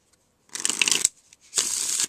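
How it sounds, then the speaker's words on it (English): A deck of playing cards being shuffled by hand, close up: two quick riffling bursts of crisp fluttering, each under a second long, with a short pause between them. "So I'm going to start by shuffling these cards."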